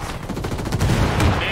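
Sustained automatic gunfire from a firefight in the Ghost Recon Wildlands video game, dense rapid bursts that build and stay loud throughout, with no talking.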